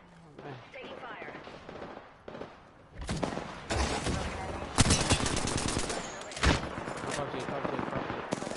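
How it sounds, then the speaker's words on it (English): Gunfire in an online shooter video game: bursts of automatic shots and heavy thumps rise partway through and continue in rapid volleys, while players talk over them. "Getting shot at."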